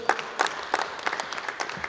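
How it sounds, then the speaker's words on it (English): Audience applause at a public sector audit awards ceremony, a scattered patter of clapping hands in a hall, moderately loud and steady for a couple of seconds with no voices over it. "A round of applause for them in absentia."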